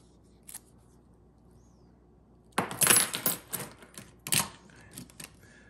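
A bunch of car keys jingles up close after a quiet lead-in, with bright metallic clinks and rattles in two or three short bursts and a few lighter taps.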